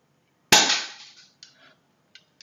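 A single sharp crack from a full-metal Walther PPQ spring airsoft pistol fired close by, followed by a quick decay and a few faint mechanical clicks as the pistol is handled.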